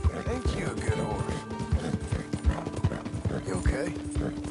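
Horse hooves clip-clop in a steady rhythm inside a PS4 video game, with a brief neigh mixed in, while someone talks gently to the horse over the hoofbeats.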